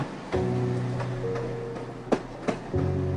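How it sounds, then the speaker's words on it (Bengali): A train runs steadily with a low mechanical hum and rumble, broken by a few sharp rhythmic clacks near the end. "কানে আসছে ট্রেন চলার শব্দ"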